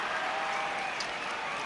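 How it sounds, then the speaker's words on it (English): Crowd applause fills an AFL stadium at an Essendon versus St Kilda football match, a steady dense roar of clapping that holds evenly throughout. "Big round of applause."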